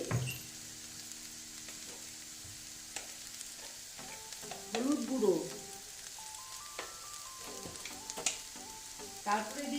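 Ingredients frying in a pan, a soft low sizzle with scattered scraping and stirring clatter around the middle, faint and without voices.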